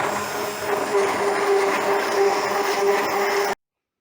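Old, worn-out blender whisking sugar with oil, a steady whirring motor hum that runs continuously for about three and a half seconds before cutting off abruptly.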